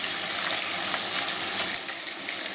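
Fish sizzling steadily in hot oil in a pan for Bengali fish curry jhol with potato and ridge gourd, a dense continuous crackle and hiss close up with no talk.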